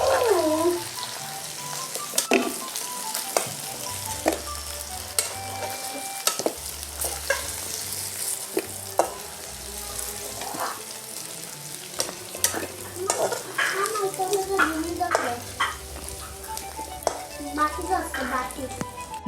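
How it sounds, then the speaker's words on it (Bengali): Taro pieces fry in oil in a pan, a steady crackling sizzle broken by frequent scraping stirs and clinks against the metal, close and fairly loud throughout with no talk. "বন্ধুরা আমি কচুগুলো ভালো করে ভেজে নিয়েছি"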